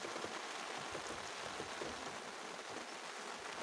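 Faint, steady hiss of rain falling, a continuous soft patter with no voices.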